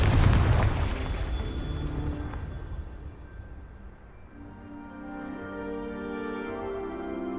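Confringo, a fire spell in Hogwarts Legacy, sets off a loud, booming explosion that dies away into a fading rumble, with a musical score taking over.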